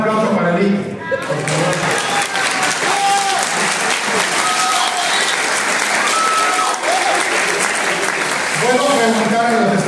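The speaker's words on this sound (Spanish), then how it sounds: "Un aplauso para mí." A room full of people bursts into loud, sustained applause for a presenter, the dense clapping filling nearly ten seconds, with a few voices heard at the start and again as it fades.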